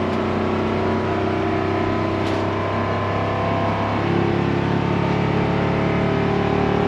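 A 2014 Thor Challenger 37KT Class A motorhome engine runs and revs as a steady, loud drone with a rising roar partway through, heard from inside with no talking.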